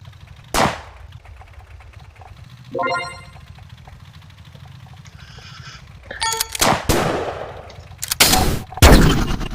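Tank cannon fire in a video game: scattered sharp blasts with metallic ringing, a lone shot early, then a denser cluster of loud impacts toward the end, close and punchy, with no talking.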